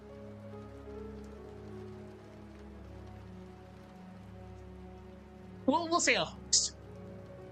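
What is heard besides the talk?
rain falling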